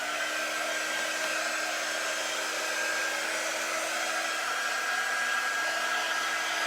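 A hair dryer blows steadily and loudly at close range over a chalk transfer screen, a continuous even whoosh with a faint motor whine and no pauses.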